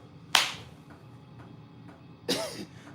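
Two sharp hand claps about two seconds apart, swatting at gnats, each a quick close slap with a short ring-off against a quiet outdoor background.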